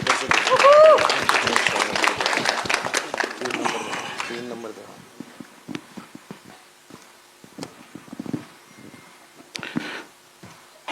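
An audience at the Batwara 1947 trailer launch claps in a burst that fades after a few seconds, followed by people talking over a quieter hall.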